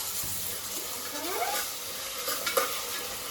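Ginger garlic paste fries in a pan for homemade Ambur biryani, making a steady hissing sizzle under repeated close stirring scrapes and a couple of brief knocks near the end.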